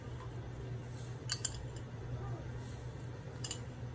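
A small spoon clinks faintly against a glass or bowl while Ramadan juice is prepared, with a few light, brief taps over a steady low background hum.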